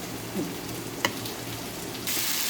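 Ivy gourd frying in a pan gives a low, even sizzle with a single sharp tap near the middle, then the hiss grows brighter and louder for the final half second, no voices.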